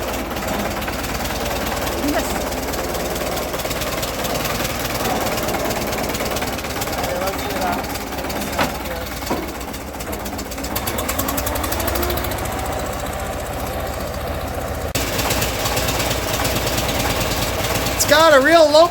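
A Fordson Major E27N tractor engine idles with an uneven, loping beat, loud and close, running continuously with a few louder bursts near the end.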